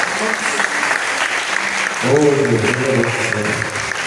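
Congregation clapping during a Portuguese-language church service, steady applause with a voice speaking over it that grows louder partway through.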